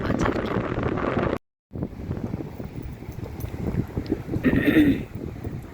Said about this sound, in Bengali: আর এই যে মৃদু আওয়াজটা শোঁ সেটা এই ওয়েভের আওয়াজ আর কি